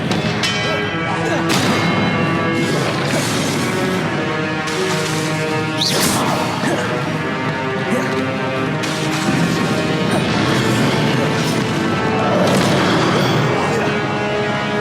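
Confringo spell blasts in the Hogwarts Legacy game on PS4, loud booming and crashing bursts layered with whooshes and a steady game soundscape, with a voice shouting spell names throughout.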